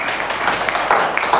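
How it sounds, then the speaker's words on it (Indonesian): Applause from a classroom of pupils after a student finishes presenting in a social-studies lesson, a steady patter of hand claps lasting about a second and a half with a few sharper claps near the end. "tepuk tangan."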